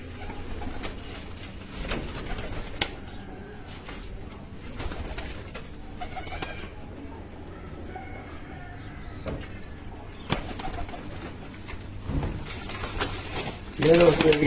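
Domestic pigeons in a loft coo repeatedly in soft low phrases, close by, with a voice talking at times over the birds.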